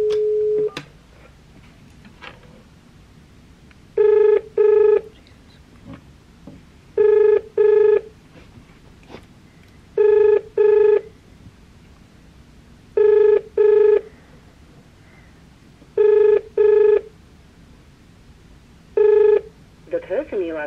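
Telephone ringback tone while calling hotel room service: paired bursts of a steady electronic ring repeat about every three seconds, clear and moderately loud over a faint room hiss.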